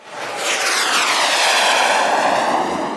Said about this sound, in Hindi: जैसे ही उसने बटन दबाया, रॉकेट बम ने जोर से आवाज की